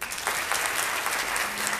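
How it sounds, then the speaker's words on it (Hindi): Audience applause at a guest lecture on work ethics, a steady dense clatter of many hands clapping close by, filling the short stretch without talk. "ब्यूटीफुल. तालियां."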